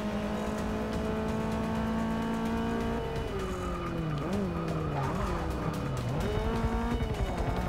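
A race car in Forza Motorsport 6 drifts out of a turn at Rio de Janeiro, its engine droning loud and close while the tyres squeal and wail in rising and falling skids.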